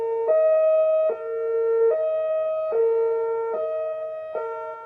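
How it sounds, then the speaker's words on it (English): A two-tone hi-lo siren alternating steadily about every 0.8 seconds, clear and sustained, sounding like a public warning alarm of the kind considered for schools on Guam. "Imagine, if you will, hearing a siren in your neighborhood,"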